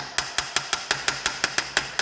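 A hammer taps a bolt through a car alternator on an MG, about a dozen sharp metallic strikes in a quick, even rhythm, close and loud, with no speech.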